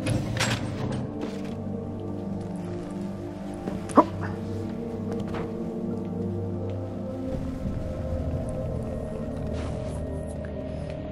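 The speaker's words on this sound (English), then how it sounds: "Dogs." Dogs barking indoors: a few sharp yips and barks scattered over a constant background hum, with one brief high whine standing out partway through.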